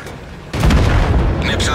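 A tank destroyed in a tank video game: a sudden loud boom and rumbling blast, close and heavy, with a crackling tail as debris settles.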